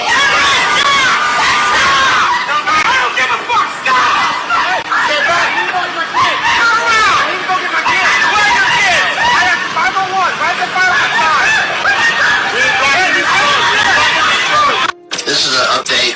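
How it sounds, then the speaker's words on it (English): Police officers at a roadblock near a fire in Gloucester County shout loudly at a man. Dense, continuous yelling and crowd babble fill the whole stretch, with one brief drop near the end. "You should hear how loud these cops are yelling at him"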